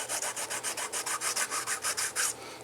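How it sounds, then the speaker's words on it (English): Very fine sandpaper rubbed briskly back and forth against rough plastic edges of a small benchtop eurorack power supply part, giving a rapid, steady scratchy swishing rhythm of about six strokes per second, close and fairly quiet. "So I'll get my little piece of sandpaper, very fine sandpaper,"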